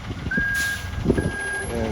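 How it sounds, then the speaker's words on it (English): A concrete truck at a construction site pour sends out a loud, evenly repeating high reversing beep over engine rumble and site clatter, with a brief voice in the background. "Metricon truck is moving, so I better get out of the way."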